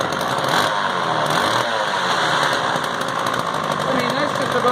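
A restored Homelite Super 2 chainsaw with a newly fitted muffler runs steadily, its engine drone loud and continuous throughout.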